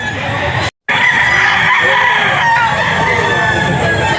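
A rooster crows loudly and close by, with some clucking around it, against steady farmyard background noise and one brief dropout.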